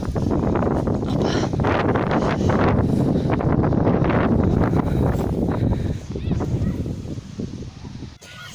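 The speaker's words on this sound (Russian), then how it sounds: "Даже ветер уже сильный." Strong wind buffets the microphone in a continuous loud roar, rumbling and gusting throughout with little letting up.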